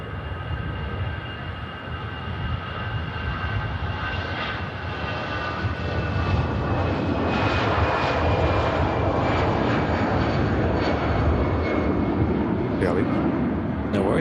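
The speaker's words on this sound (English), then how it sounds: "Brussels Airlines, Airbus A320 and the new livery just departing there." A Brussels Airlines Airbus A320 in new livery departs Manchester Airport, its jet engines a steady, loud roar with a sustained whine, while people talk over it.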